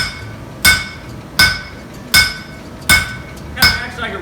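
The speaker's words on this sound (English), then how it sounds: "Now flatten this, I'm going to use the back side of the hammer." Hot steel leaf is flattened with the back of a hammer in five evenly spaced, ringing metallic strikes, each sharp blow decaying briefly before the next.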